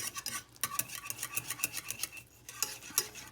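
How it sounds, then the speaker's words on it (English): A spoon stirs vanilla into caramel sauce in a pan, made as a topping for carrot cake cupcakes, with close, rhythmic scraping strokes repeating steadily and no talking. "Stir that in."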